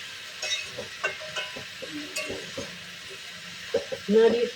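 Young pui (Malabar spinach) greens cooking in a pan for chachchari are stirred with a utensil. Soft scrapes and clinks come at irregular intervals over a faint sizzle, with a louder clatter near the end.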